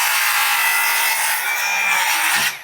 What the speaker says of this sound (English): just kind of boring out so my screws can go a little bit deeper into the wall